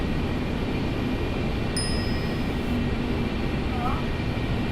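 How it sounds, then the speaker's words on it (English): A Concorde lands and roars under reverse thrust, a steady, dense broadband rumble lasting several seconds, with a brief high chime cutting in partway through. "we'll hit reverse thrust and bring the nose down"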